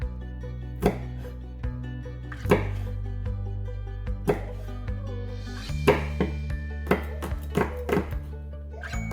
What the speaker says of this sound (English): chop up 2 green chilies, kind of finely